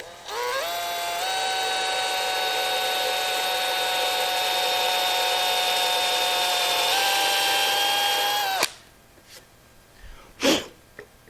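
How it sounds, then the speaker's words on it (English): A steady, high-pitched drill with a Forstner bit whines continuously for several seconds while boring holes for a trestle table, shifting pitch slightly partway through, then stops abruptly, leaving a few faint clicks and knocks. "at each hole, carefully line back up and drill down"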